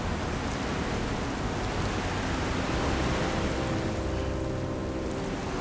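Steady rain falls in The Force Unleashed 2 video game, a dense, even hiss of downpour that holds constant throughout with no talk over it.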